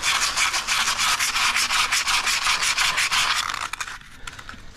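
Sandpaper scrubs rust off the front suspension of a Hummer H3: a steady, loud rasping hiss in quick repeated strokes for about four seconds, then it stops and a quieter background remains.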